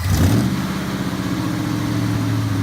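A 1973 Ford Mustang Mach 1 engine revs up and holds at a steady high pitch, loud and close, with a strong droning tone throughout.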